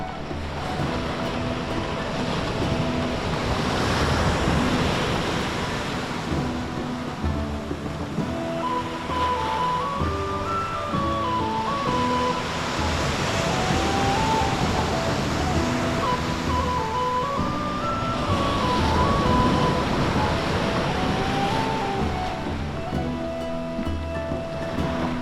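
Surf breaking along a wild beach on the Isle of Jura, a steady broadband wash that swells and recedes loudly with wind buffeting the microphone; tonal music-like lines run over it throughout.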